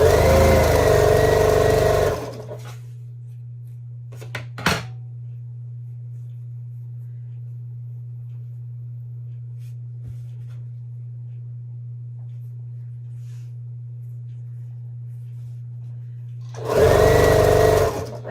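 A sewing machine stitching quilt pieces runs as one steady, even motor hum for about fourteen seconds, bracketed by talk at the start and end.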